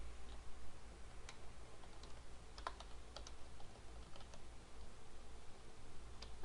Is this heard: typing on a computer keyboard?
yes